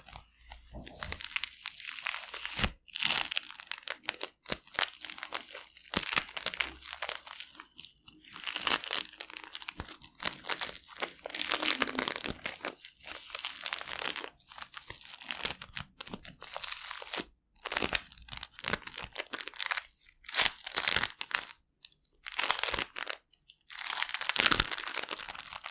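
Crunch slime packed with colored polystyrene beads being squeezed and pressed close up, giving dense crackling crunches and crinkles in repeated bursts separated by short quiet gaps.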